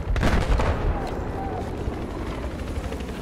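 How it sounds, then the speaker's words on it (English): Helicopter circling overhead in the PC game Battlefield 4, a dense low rotor rumble mixed with loud bursts of gunfire and battlefield noise, steady throughout. "We got a chopper up above."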